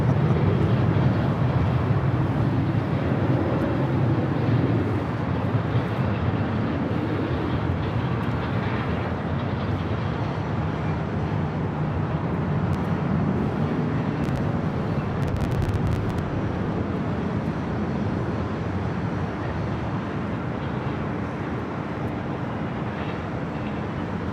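A jet airliner takes off at Los Angeles LAX airport, and a loud, steady roar of engine noise holds for the whole stretch with no talk.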